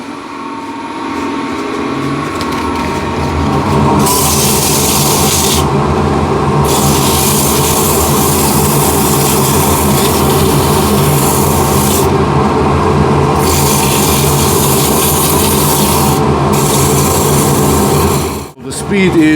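A mahogany plate being sanded on a lathe spinning near 1500 RPM gives a loud, continuous abrasive hiss over the motor's steady hum, the rasp swelling and easing in long strokes before briefly cutting out near the end.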